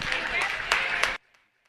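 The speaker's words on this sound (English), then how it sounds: "Let's give them a round of applause." Applause at a sheep sale show ring, a crowd clapping briskly for about a second before stopping abruptly, followed by near silence.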